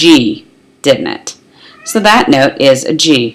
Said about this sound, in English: So if you hear a meow, that's my cat.